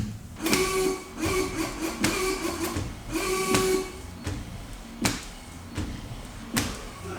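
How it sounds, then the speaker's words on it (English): Washer fluid pump on a 2022 BMW X3 M40i with a clogged pre-pump filter runs in repeated bursts, a whirring electric hum with hissing, each cycle lasting about a second, close and moderately loud, with clicks between. "You can hear the pump, but that's it."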